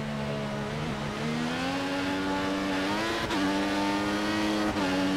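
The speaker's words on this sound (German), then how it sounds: "Reifen sind jetzt eigentlich nur noch am Durchdrehen" A race car in the video game F1 2014 with its tires spinning, giving a steady, loud engine drone that rises slowly in pitch under a continuous tire whine, with no break for the whole stretch.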